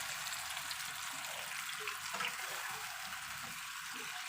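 Marinated chicken in garlic paste and yogurt fries in a pan with a steady, soft sizzle and crackle, some light stirring scrapes, and no talk.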